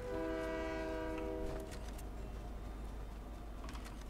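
A train in the Fortnite video game sounds its horn in a sustained, loud blast for about a second and a half, then rolls on as a steady rumble with faint metallic clatter.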